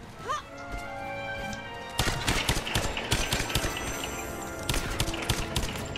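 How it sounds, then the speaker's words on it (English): Rapid bursts of gunfire from Lara Croft and the Temple of Osiris, a sparse shot or two early, then a dense, loud volley of overlapping shots from about two seconds on, with layered game sounds underneath. "I'm just shooting too crazy here"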